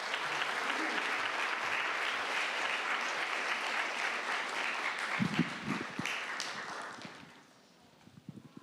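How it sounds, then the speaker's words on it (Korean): A church congregation claps to welcome two families at a Sunday worship service, steady dense applause filling most of the clip before thinning into scattered claps and fading out near the end. "저희 박수로 환영을 부탁드리겠습니다."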